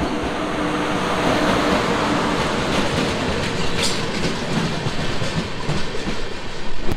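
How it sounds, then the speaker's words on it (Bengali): The Ruposhi Bangla Express 12883 pulls out of Medinipur station, its wheels clattering in a steady clickety-clack over a loud continuous rumble, with the rhythm growing more distinct toward the end. "ট্রেন ছাড়লো মেদিনীপুর স্টেশন থেকে"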